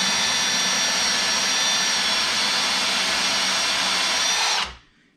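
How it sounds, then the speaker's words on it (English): A Ryobi power drill with a hole saw whines steadily as it cuts into an antique wooden door for a latch, loud and close, then winds down and stops. "we're going to drill in far enough for the latch to click into this."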